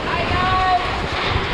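Typhoon Rolly's catastrophic winds roaring in Naga, Bicol, a loud steady rush buffeting the microphone with gusty rumble throughout.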